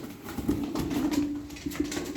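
Pigeons from a single coop cooing, a low rolling coo repeated several times, close and moderately loud, with no talk over it.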